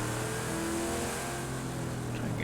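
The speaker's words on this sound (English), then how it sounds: "all I can hear is that Ferrari behind me catching up." A 1969 Camaro race car engine in Project Cars 2 at Road America, a steady mid-pitched motor droning at sustained revs, close and continuous with a rival car faintly rising behind, no voices.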